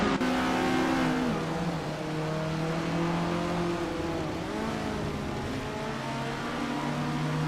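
A vintage 1975 Metal X MTX 103B race car engine in a racing game drones steadily and loudly, its pitch rising and dipping through shifting revs with no pauses across the whole stretch.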